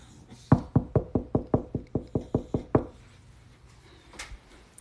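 Knocking on the wooden wall of a house, a quick run of about twelve hollow, evenly spaced knuckle raps close up, followed by quiet room sound.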